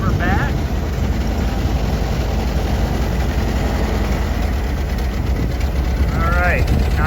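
A 1925 Model TT fire engine runs at reduced throttle with a steady, loud low-end engine rumble throughout, while people talk over it and brief squeaks come through.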